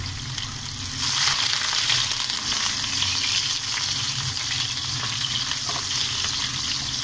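Onion softening in hot oil in a kadhai, a steady bright sizzle with occasional stirring scrapes, close and continuous without talk.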